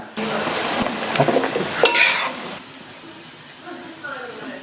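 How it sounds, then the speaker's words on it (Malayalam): Onions with curry leaves and a pinch of salt fry in a pan, close and sizzling, while a utensil stirs with a burst of scraping clatter and then the frying settles to a softer hiss. "ഉള്ളിയുടെ കൂടെ തന്നെ ഇതേ കറിവേപ്പില ഇട്ടിട്ടുണ്ട് കുറച്ച് ഉപ്പും കൂടി ഇടുവാണേ"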